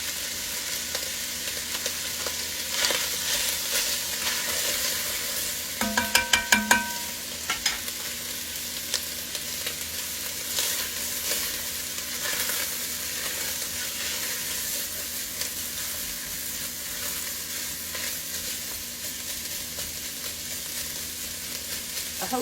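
Roughly chopped whole onion frying in a pot: a steady, even sizzle throughout with a brief burst of metallic clinking and stirring early on, close and without talk.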